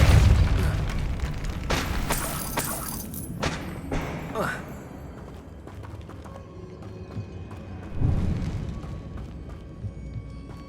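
A Depulso spell in Hogwarts Legacy strikes in repeated booming impacts, with a burst of crashes early on, a sharp hit near the middle and another heavy thud later, over a rumbling game background.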